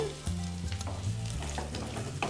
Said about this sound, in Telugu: పచ్చిమిర్చి వేగిందండి, ఆనియన్స్ వేయాలి తర్వాత